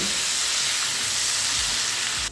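Salted, turmeric-coated new potatoes frying in hot oil, a dense, loud, continuous sizzle with a couple of faint low thumps near the end, no voices.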